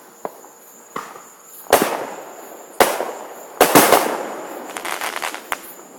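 Fireworks and firecrackers going off at night in Florida: sharp cracking bangs at irregular intervals, several loud near blasts followed by crackling bursts and fainter pops, with no talk.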